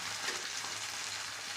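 Stale pitha, unwrapped from sal leaves and coated in a ginger, garlic and onion paste, fry in oil in a pan with a soft, steady sizzle that stays quiet and even throughout.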